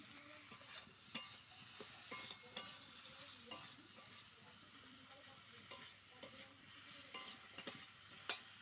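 Fish curry masala with salt is stirred in a pan for a drumstick fish curry, with soft frying sizzle under repeated light scrapes and clinks of a spatula, all fairly quiet and close.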